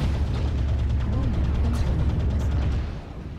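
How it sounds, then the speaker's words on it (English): Airstrike explosions go off in the mech combat game Mechwarrior Online as a continuous heavy rumbling roar of blasts. It is loud and dense and fades slightly at the end. "Airstrike."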